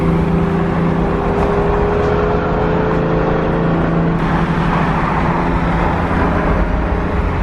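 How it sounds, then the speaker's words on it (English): A loud BMW E92 M3 passes close by on the street, its engine a dense, continuous roar with a slight change in pitch partway through. "never noticed how loud my E92 is until now"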